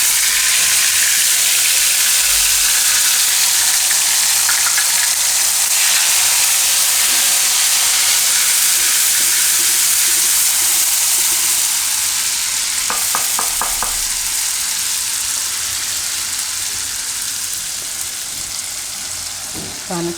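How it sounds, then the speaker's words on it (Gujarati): Cumin and ginger-chili-garlic paste sizzling in hot oil in a home kitchen pan: a loud, steady frying hiss runs throughout, with a few brief stirring clinks near the end. "તો તેલ આપણું હવે ગરમ થઈ ગયું છે. એમાં જીરું નાખશું પહેલાં."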